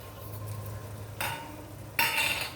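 A pan of seasoning tempering with turmeric for a raw banana mustard chutney sizzles steadily and close by, with stirring scrapes and louder bursts of frying as ingredients hit the hot oil.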